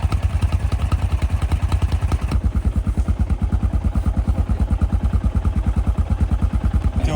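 A moped engine puts along nearby with a loud, rapid, regular chugging putter that keeps a steady rhythm throughout, with no talking.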